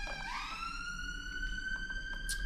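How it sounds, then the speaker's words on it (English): Police siren wailing along a London street, a rising and sweeping electronic tone heard at a distance over low traffic rumble. "sorry about the sirens, that's just living in London for you."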